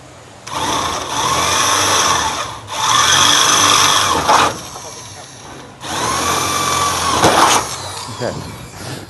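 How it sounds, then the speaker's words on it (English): Three loud bursts of a power drill with a 10mm bit grinding through material while installing an aluminium truck tray, each lasting a couple of seconds and separated by short pauses, close by. "now he can drill with the 10mm drill"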